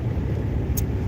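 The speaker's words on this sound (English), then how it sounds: "Yeah, that's a garbage truck too, Chubbs." A garbage truck drives past on a road during a winter storm in Pennsylvania, a brief loud rumbling engine roar with road noise close by.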